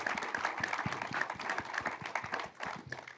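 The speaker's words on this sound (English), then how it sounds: "Let's give Impact Lounge a round of applause" A panel audience gives a round of applause, crisp individual claps in a busy, moderately loud stream with some murmuring underneath.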